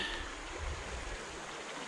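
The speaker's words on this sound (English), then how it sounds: "They're worth a stop and a look at the little creek." A small side creek trickles along a flat forest trail near Panther Creek Falls, a steady close rush of flowing water with no voices.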